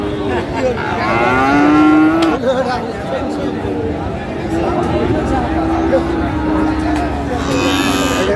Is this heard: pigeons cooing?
no